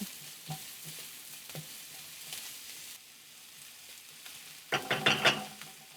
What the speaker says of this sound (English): This is about 2-3 shallots. And stir that.